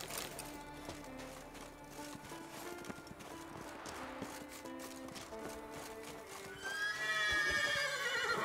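A horse in The Witcher 3 video game gallops with rhythmic clip-clopping hooves, closing with a loud, rising neigh and whinny over faint game music and sound effects.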